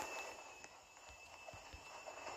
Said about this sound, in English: So I can hear the train.